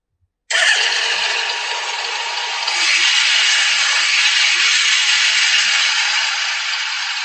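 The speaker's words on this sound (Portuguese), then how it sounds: "É uma moto. Nossa, e parece que ele está com pressa, né? Ele está acelerando bastante." A motorcycle engine roars to life after a brief silence, then revs harder and holds a loud, steady, buzzing drone close by.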